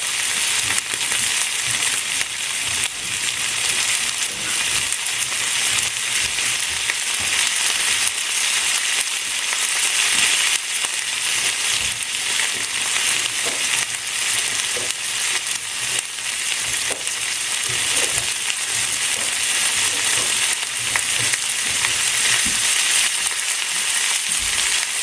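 Food sears in a hot pan with a steady, dense sizzle that holds loud and even throughout, with faint scrapes and stirring now and then and no talk.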